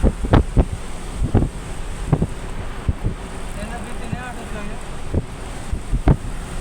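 Wind buffets the microphone on a churning sea shore, with waves thudding in bursts and a steady roar underneath; voices can be heard talking over the blustery noise.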